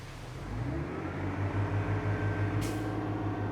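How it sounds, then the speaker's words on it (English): A loaded gravel truck hauling crush and run rolls up and idles with a steady low diesel drone, a brief hiss of air brakes cutting in near the end. "So the first gravel truck is here"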